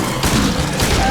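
Pistol shots in the horror game Silent Hill 2, a few loud, closely spaced booming reports in quick succession, heavily reverberant and dense.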